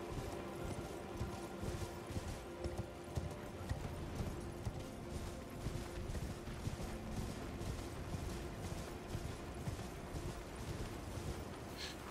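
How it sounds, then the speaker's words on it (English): Rhythmic hoofbeats from the spectral steed Torrent galloping in the video game Elden Ring: quick, steady clip-clop at a soft, moderate distance over faint ambient noise, with no talk. "I'm going to run with Torrent till I'm knocked off my horse"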